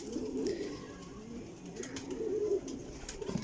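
Young flying pigeons coo close by in soft, repeated rolling calls over a quiet background.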